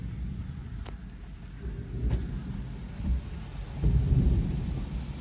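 Thunder from a close lightning strike during an intense wind storm in Chester, Virginia: deep rumbling swells under a constant gusting wind roar, with a couple of sharp cracks and a heavier rolling boom toward the end.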